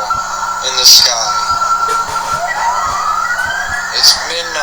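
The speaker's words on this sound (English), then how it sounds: "There's sirens blaring" Sirens wail outside at midnight, a rising tone sweeping up under a steady background rumble with sharp transient bursts, moderately loud and somewhat distant.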